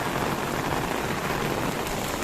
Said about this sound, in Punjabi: ਦੇਖੋ ਇਧਰ ਬਹੁਤ ਜ਼ਿਆਦਾ ਮੀ ਤੇਜ਼ ਹੈ